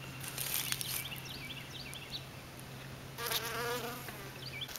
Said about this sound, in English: Look at the pretty flowers. There's a bee right there.